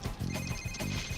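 A mobile phone rings nearby indoors, its electronic ringtone repeating in two short, even bursts.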